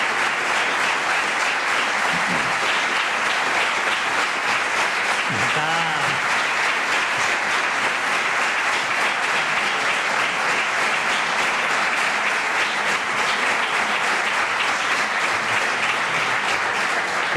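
Sustained applause from a political audience in a Spanish parliamentary chamber, steady dense clapping throughout at full volume with no pauses.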